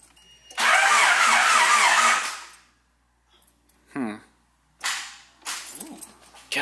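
A car engine cranks hard for about a second and a half without catching, then goes quiet before a few shorter, weaker cranking bursts and clicks follow, all close and without talk.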